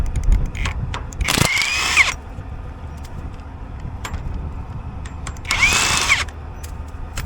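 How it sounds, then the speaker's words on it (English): A power tool whirs in two short bursts while loosening a big bolt on corn harvesting equipment, close and loud over a steady machinery rumble, with faint clicks and knocks between bursts. "I still think I'm going to have to loosen that big bolt"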